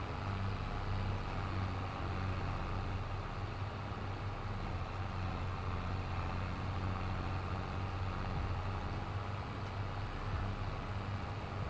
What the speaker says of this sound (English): you can hear the engine tone change when it's got to push a bale